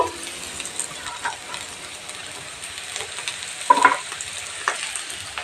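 Potatoes fry in a pan over medium heat, giving a soft, continuous sizzle with occasional stirring scrapes and a single light metallic clink, without any talking.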